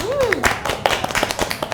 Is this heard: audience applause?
yes